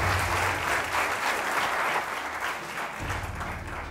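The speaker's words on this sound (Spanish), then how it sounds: "¡Un aplauso!" A studio audience on a football television show breaks into applause, a dense, steady clapping that fills the clip and eases slightly toward the end, with no speech heard.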